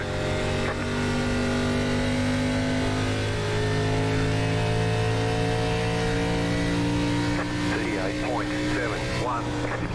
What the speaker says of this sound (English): We just got so much more grip up off the corner than Lewandowski has